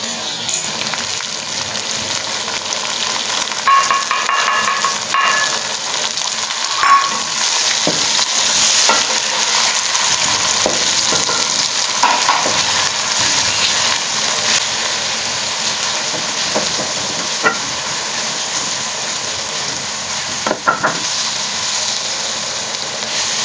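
Tomatoes and green chillies fry and sizzle in a pan, with steady hissing broken by occasional stirring scrapes throughout, and no talking.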